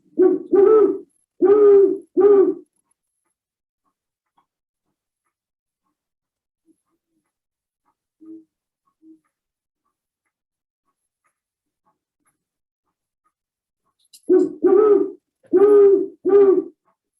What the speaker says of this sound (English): So great horned owl is just a series of hoots, no specific pattern.